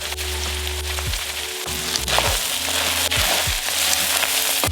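Tomato paste sizzling and frying in a pan while being cooked down for a Tex-Mex lasagna, a loud steady crackling hiss with faint tones in the background.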